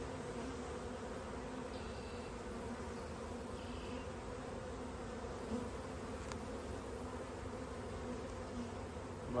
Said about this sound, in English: Good amount of bees.